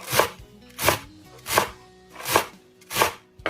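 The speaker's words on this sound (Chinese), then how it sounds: "再给它切成韭菜碎。" A kitchen knife chops washed garlic chives on a cutting board, five loud, evenly spaced thuds at a steady slow rhythm, close up with nothing else heard.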